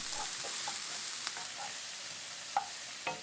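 Chopped onions fry in oil for sloppy joes with a soft, steady sizzle, broken by a few sharp taps and scrapes of a stirring utensil.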